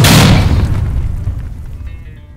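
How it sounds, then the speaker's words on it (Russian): A puffing gun bursts open with a single loud, close boom as pressurized pearl barley is released, the blast decaying into a hissing rush. "Взрыв."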